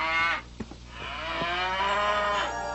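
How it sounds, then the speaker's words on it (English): Cows low in a farm setting, with one long, loud moo at the start and another drawn-out call near the end, set against a steady background hum. "You can look after my cows."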